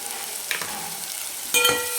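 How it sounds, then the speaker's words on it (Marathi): Ginger, garlic and green chili paste fries in hot oil with a steady soft sizzle, broken by a light stirring scrape midway and a brighter crackling burst near the end. "तर छान जरा थोडंसं कच्चेपणा याचा जाईपर्यंत आपल्याला तळून घ्यायचं आहे"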